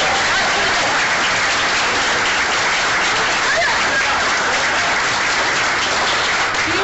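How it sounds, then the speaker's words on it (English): Audience at a political victory event gives a round of applause, a dense, continuous wash of clapping that holds steady and loud throughout, with crowd noise blended in. "Let's give him a round of applause"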